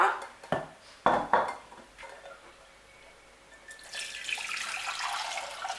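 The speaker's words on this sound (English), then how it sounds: "add a little bit of water" Water runs into a metal pot holding eggs with a rising rush of splashing, preceded by a few sharp clinks of the pot being handled nearby.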